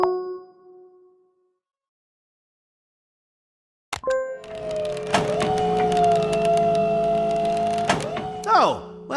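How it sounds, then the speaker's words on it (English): A large animated church bell, restored with its original clapper, is struck once with a clang that rings out in sustained, shimmering overtones, then fades away into silence. "our magnificent bell, restored with its original clapper"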